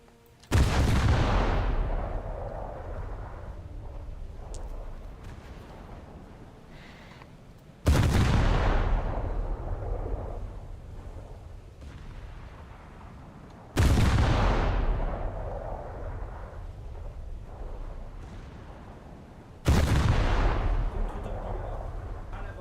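Warship cannons in a naval combat game fire four heavy booms at steady intervals several seconds apart, each a loud sharp blast trailing into a long rumbling decay, with no talk over them.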